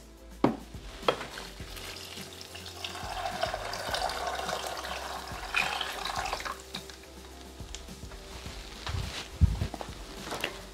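Hot water poured into a Thermomix bowl holding grains and legumes for soup, a continuous splashing pour lasting several seconds with a few sharp knocks at the start and end, close and moderately loud.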